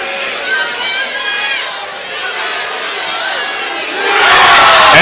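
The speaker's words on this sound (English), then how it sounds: "the crowd is starting to get into it as well" A crowd at a homecoming college basketball game between Stillman and Talladega cheers and shouts with excited voices throughout, then swells louder near the end.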